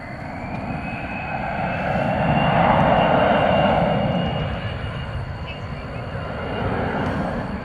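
A jet airliner on the runway at DFW airport at night makes a steady, broad engine roar that swells to a peak midway and then eases off, heard from a distance with no clear talk over it.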